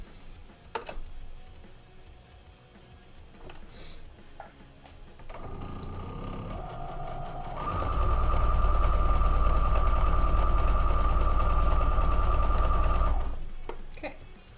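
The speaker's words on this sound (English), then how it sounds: "Let's sew up this one." A sewing machine stitches fabric, first in short slow bursts and then in a loud, steady whirring run of about six seconds before it stops. Scattered handling clicks come before and after, with no talking.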